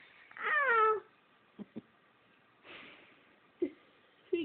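A cat meows once up close with a drawn-out, wavering cry, followed by a few faint snorts and breathy sounds in a quiet room.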